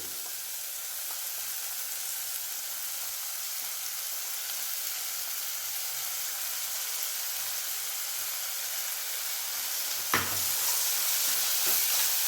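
Ginger garlic paste sizzles steadily in hot oil while being sautéed for a mixed vegetable sabji, a continuous broadband frying hiss with faint stirring and one brief utensil knock near the end.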